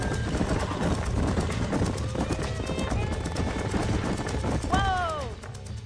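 Horses in the Red Dead Redemption game clop along in a steady trotting rhythm, hooves thudding close by, with a short whinny near the end; a voice talks over the hoofbeats.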